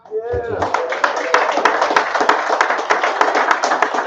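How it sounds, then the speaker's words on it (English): A brief spoken phrase gives way to steady, close audience applause at a live poetry event, many hands clapping for several seconds. "I just wanted to give them a round of applause."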